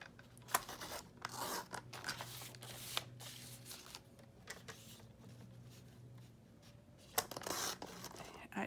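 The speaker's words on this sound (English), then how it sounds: "I might just cut around the words with my scissors" Scissors cutting around words on paper for a Bible journaling page, quiet repeated snips and paper rustles close by with pauses between, no talking.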